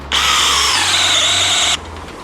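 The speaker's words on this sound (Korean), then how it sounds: "제가 726 모델 가지고 2단 토크로 이걸 한번 뚫어보겠습니다" A Stanley 726 impact driver drills into material on its second torque setting, close and loud. It whirs in a steady, high-pitched motor burst for over a second and a half, then cuts off abruptly, followed by quieter residual noise.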